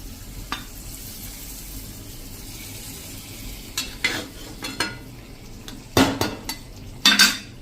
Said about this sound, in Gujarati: આ આપણે વઘાર આમાં જ રેડી દેશું